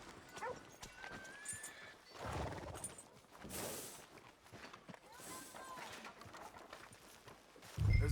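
Horse hooves clip-clopping in Red Dead Redemption 2, faint steady hoofbeats on a town street with background ambience and some voices.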